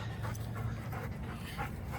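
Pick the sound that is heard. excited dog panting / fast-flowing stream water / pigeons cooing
excited dog panting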